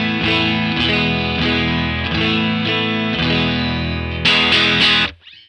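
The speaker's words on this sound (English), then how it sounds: "So the amp sound is coming from the Walrus Audio ACS1 amp and cab simulator." Strat neck pickup in a clean tone through a Walrus Audio ACS1 amp and cab simulator, strummed chords ringing steadily, then a brighter burst near the end before cutting off; solo guitar, no voices.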